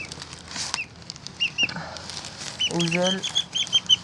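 Young chicken flapping its wings in short bursts close by, with a few clucks and chirps mixed in while someone speaks briefly in French.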